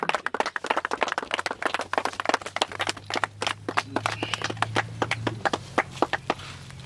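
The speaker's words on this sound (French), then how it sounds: "on peut applaudir" An Easter church congregation claps in uneven, sharp bursts that settle into a loose, fairly regular rhythm, with a faint low hum running underneath.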